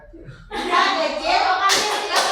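Children in a religious-education classroom doing the tepuk cinta clapping routine: after a quiet start, a burst of group clapping and hand slaps with young voices, followed by two sharper clapping accents near the end.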